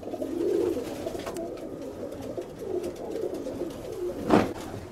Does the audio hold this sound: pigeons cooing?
yes